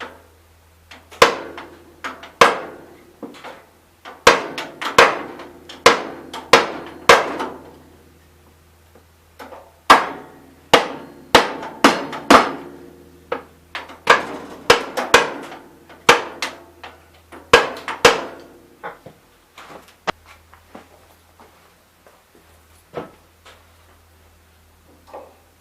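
A ball peen hammer strikes a painted tire rim on a Gravely 430 tractor wheel, dozens of sharp metallic blows landing in irregular bursts and clusters close to the mic, with short pauses between volleys.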